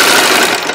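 Serger sewing machine running briefly to stitch a thread tail after a snack bag seam, a loud close whirring mechanical buzz that cuts off at the end.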